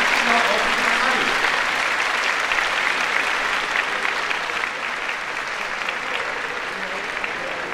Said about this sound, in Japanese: どうぞ皆様大きな拍手をお送りください。